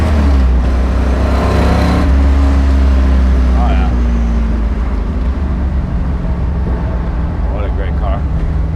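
A 1970s Plymouth Cuda with a 426 Hemi driving, its loud, deep engine rumble and road roar filling the cabin steadily, with someone talking over it.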